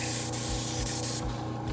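A compressor-driven airbrush sprays warm cocoa butter in a loud, continuous hiss with short rhythmic pulses, close up and with no talk.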